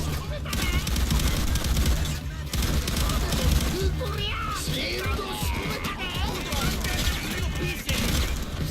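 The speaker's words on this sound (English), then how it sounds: "Very much shooting." Heavy gunfire in Payday 2 during a safe house raid, dense continuous shooting with blasts and crashes layered over a busy game soundscape, with voices and yelling mixed in throughout.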